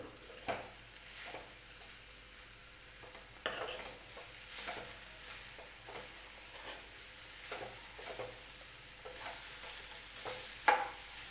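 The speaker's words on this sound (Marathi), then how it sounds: "मंदाचेवरती सगळं मिक्स करत राहायचं आहे खालून लागलं नाही पाहिजे आहे खोबरं" Grated coconut and jaggery are stirred over a low flame in a pan for modak filling, soft repeated scraping strokes with a quiet sizzle and an occasional utensil knock.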